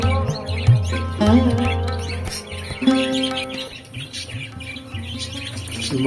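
Java sparrow chicks chirp in short, thin bursts while being hand fed, mixed with steady humming tones in the background and no talking.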